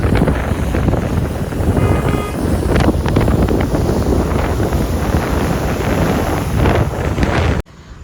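Strong wind at Devka beach in Daman buffets the microphone in a loud, continuous rumble with gusty roar and faint surf beneath, ending abruptly.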